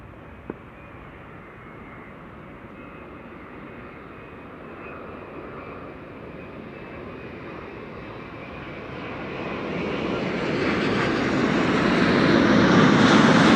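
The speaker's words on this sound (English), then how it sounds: "LATAM Airways arriving from Sao Paulo. This is flight 8078" A LATAM Airways airliner arriving at Amsterdam Schiphol after a long flight from Sao Paulo, its jet roar steady and broadband at first, then swelling steadily louder toward the end as it closes in, with no voices.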